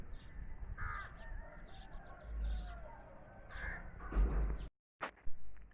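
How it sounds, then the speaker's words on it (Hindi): Crows caw repeatedly outdoors at sunrise, several harsh calls spread out at moderate distance over a low background hum, with a brief gap and a couple of thumps near the end. "और परिंदे चहचहा रहे हैं।"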